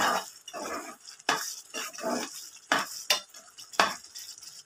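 A spoon stirs a peanut and sesame powder paste through a potato egg curry in a pan, making rhythmic scraping and swishing strokes with short gaps between them, close and clear, over a faint simmer.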